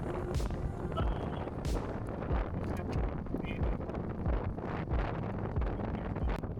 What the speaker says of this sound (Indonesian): Kalau ada angin dari samping gini, efeknya kan lumayan kerasa.